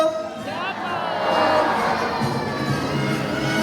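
A crowd of children shouts together at a bird show, calling the name of Jumbo, a green-winged macaw. The loud group cheer swells and holds for several seconds.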